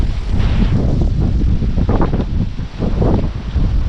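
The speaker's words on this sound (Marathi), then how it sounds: "वाऱ्याला सुटलंय आता पाऊस येईल वाटतंय मला लयच वारं सुटले" Strong wind before rain buffets the microphone in a steady, loud roar with gusting surges, no voices present.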